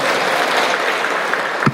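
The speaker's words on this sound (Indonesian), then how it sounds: "Tepuk tangan dulu buat kita semua." Audience applause at a parish anniversary psalm-singing contest for junior high school students, dense steady clapping that is loud and close for the whole stretch.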